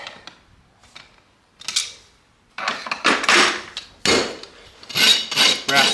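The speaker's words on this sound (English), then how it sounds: "Rasp the top. Rasp underneath it." A farrier rasps an old horse's hoof, rough scraping strokes in short bursts, starting sparse and quiet and becoming louder and faster toward the end.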